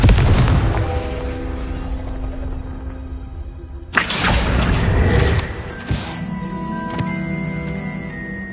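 Confringo fire spell blasts in the Hogwarts Legacy video game: a loud booming explosion opens, a second sharp blast strikes near the middle, then smaller crackling impacts follow, each with a rumbling decay.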